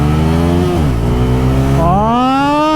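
Bajaj Pulsar N160 4V motorcycle revving hard to 10,000 RPM in a drag race, a loud, close engine note that drops briefly and then climbs steeply in pitch as it accelerates.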